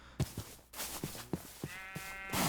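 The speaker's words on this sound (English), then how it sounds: "Ooh, hello sheep" Sheep in a video game bleat several times in short, wavering calls over soft game ambience and small thumping steps, heard without talk.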